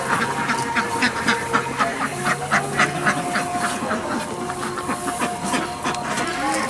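Ducks on a Vietnamese duck farm quacking continuously, a dense overlapping flock chorus close by with no talk.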